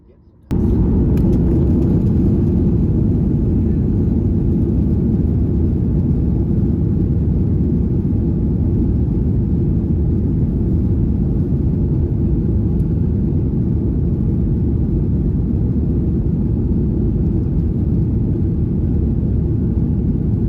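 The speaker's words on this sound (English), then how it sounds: "before long we were already on the runway ready for takeoff" Ryanair airliner accelerating down the runway at Berlin Brandenburg for takeoff, a loud, steady low engine roar that swells in at the start and holds unbroken for about twenty seconds from inside the cabin.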